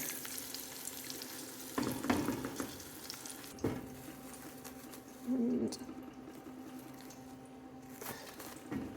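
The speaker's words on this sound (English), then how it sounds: "And frying it." A steady sizzle of breadfruit frying in a pan, with occasional scraping stirs and clinks, close by and fairly quiet.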